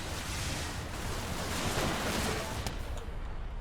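Explosions in the space shooter game Everspace, a dense, continuous roar of blasts and crackling debris filling the whole stretch at moderate level, with no distinct single bang standing out.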